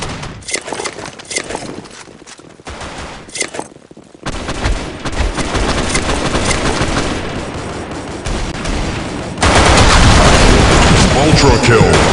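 Weapons fire in the BlackShot shooter game on the Lost Temple map, with dense rapid gunfire bursts growing louder and more continuous over about twelve seconds, mixed with game voice callouts.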